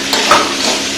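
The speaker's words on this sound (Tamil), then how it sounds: "இப்போ இந்த காய்கறியெல்லாம் கொஞ்ச நேரம் நல்லா எண்ணெயில வதக்கிக்கோங்க." Vegetables sautéing in hot oil in a pan, a close, steady sizzle with a quick stirring scrape partway through.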